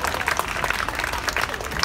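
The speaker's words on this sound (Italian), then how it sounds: "applausi a tutti." A small group applauds outdoors at a community garden gathering, a crowded, uneven patter of claps with some voices mixed in.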